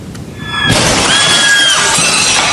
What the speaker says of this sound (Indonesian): Akibat hantaman cukup keras, kaca hancur berantakan